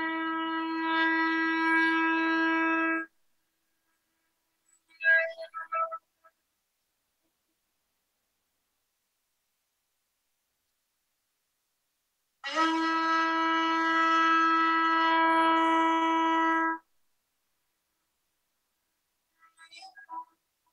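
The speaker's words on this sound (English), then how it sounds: "This is the sound of our caracol." Two long, steady horn blasts from a conch shell, each about four seconds, separated by silence, with a few brief breathy sputters between them.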